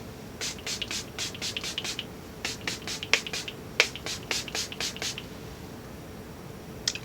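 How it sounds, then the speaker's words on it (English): Quick bursts of a spray bottle spritzing wet hair shimmer, several sprays in rapid succession, pausing, then another run of sprays, close and crisp. "It's a very wet spray."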